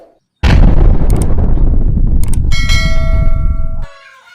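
A toy grenade goes off with one loud, sudden blast that rolls into a crackling burst, then a ringing, bell-like metallic tone trails away at close range.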